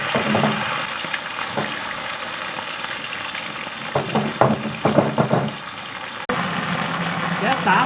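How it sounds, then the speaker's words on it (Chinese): Bullfrog pieces hit hot oil in a wok with chillies, ginger, onion and garlic, giving a loud broad sizzle with clattering stir strokes midway, and a voice speaks over it. "好，牛蛙下锅撒。"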